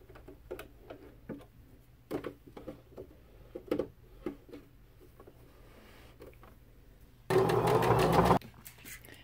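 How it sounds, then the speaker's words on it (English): A sewing machine whirs in one loud, steady burst of about a second, stitching felt pieces of a plush gnome, after scattered quiet clicks and taps. "Here we are at the sewing machine. What we're going to do is sew the body together."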